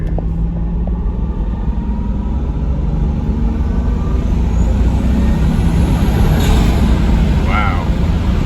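Stock twin-turbo Toyota Supra with a V160 six-speed accelerating at part throttle, a loud steady engine rumble heard from inside the cabin with a faint turbo whistle, under a voice.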